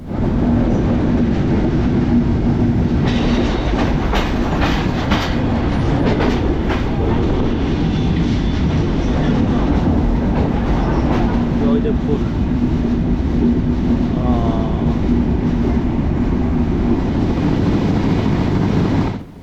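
The Banalata Express train rolls into Joydebpur railway station with a loud, continuous rumble and rattling of railcars, a steady roar from on board, with clanks and squeals along the way.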